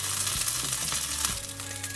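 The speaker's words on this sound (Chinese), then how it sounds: "小火慢慢煎，多翻几次面，每2分钟翻1次面" Meat patties pan-frying slowly over low heat until golden and puffed, giving a steady close sizzle of hot oil with a few soft crackles and the faint clink of a turner, and no voices.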